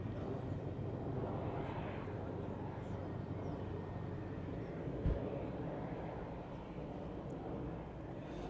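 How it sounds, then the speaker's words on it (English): A Boeing 757 arriving from Reykjavik in the evening passes over East Midlands Airport, a distant, steady jet roar with wind rumble and a brief thump partway through. "757 in from Reykjavik this evening, routing straight over the airfield."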